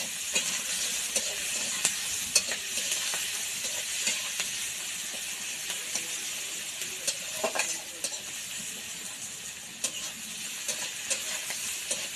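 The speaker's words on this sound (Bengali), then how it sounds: "ভাজিয়ে দিয়ে দিচ্ছে রসুন বাটা" Garlic paste frying in a pan gives a steady, close sizzle and hiss throughout, with faint scraping of stirring now and then.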